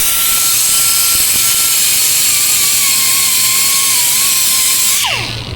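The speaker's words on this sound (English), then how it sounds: "we're gonna clean off that surface with this little abrasive wheel here, called the Ziz wheel" Abrasive Ziz wheel on a power tool grinding rust off a rusty car surface, a loud steady high-pitched whine with grinding hiss that holds for about five seconds, then spins down as the tool is released.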